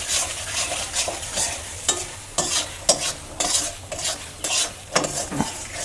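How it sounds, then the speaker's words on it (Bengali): Spice masala with Kashmiri chili and salt for a cabbage and fish-head dish fries in a pan while a spoon stirs and scrapes it rhythmically, with a constant close sizzle under frequent metallic knocks and no speech. "এবার আমি মশলাটাকে কষাবো"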